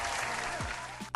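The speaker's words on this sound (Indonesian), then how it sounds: "Ayo tepuk tangan dulu." Clapping from a small group in an indoor setting, a short soft burst of applause that holds steady briefly before ending with a sharp knock.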